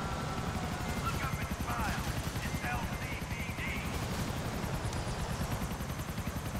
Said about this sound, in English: Oh, was it another chopper? Two choppers.